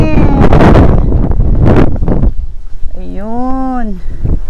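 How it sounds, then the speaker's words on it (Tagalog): Strong wind gusts over open rice paddies roar as loud, rushing buffeting against the microphone for about two seconds, easing before a person speaks briefly near the end. "Ang lakas ng hangin."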